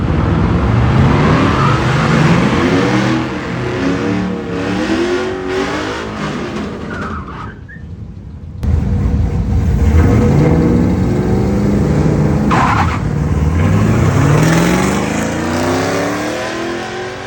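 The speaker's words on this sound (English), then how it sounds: "just started revving it up and releasing the clutch, you know, kind of slow and feathering it" A 450 whp LS-swapped T100 truck at a drag race, its engine revving hard and launching with tire-shredding wheelspin, loud and close with repeated rising roars, a brief drop, then another surging run.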